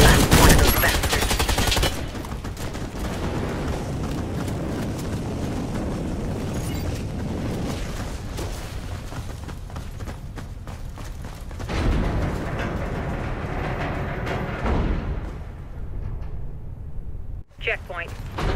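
Missiles fired at an enemy fleet burst in a sustained, loud roar of explosions and rumbling blasts in Warface, a dense wash of booms with a sharp louder surge near the start and a brief drop late on; voices speak over parts of it.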